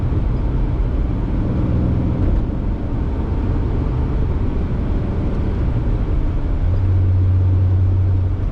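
A supercharged 1994 Jaguar XJS with its 4.0-litre straight-six engine drives along, giving a steady, continuous engine and road drone with a low hum that swells slightly near the end.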